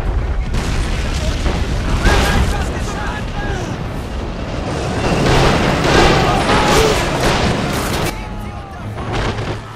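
Repeated booming artillery blasts and gunfire in a dense, chaotic video game battle at the Seelow Heights, loud and continuous with a voice talking over it.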